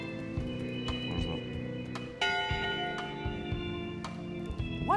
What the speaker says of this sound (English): Someone rang the bell.